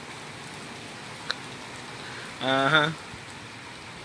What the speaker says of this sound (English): As y'all watching this rain on Facebook